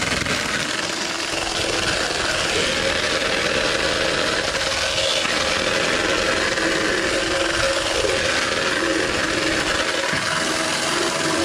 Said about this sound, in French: c'est un moulin à poivre sans fil